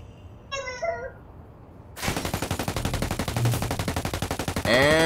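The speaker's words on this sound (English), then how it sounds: "And shots coming in." Sustained automatic gunfire in Ghost Recon Wildlands Ghost War PvP, a loud rapid evenly pulsed burst lasting nearly three seconds after a quieter opening with a brief tonal game cue, ending in another loud blast.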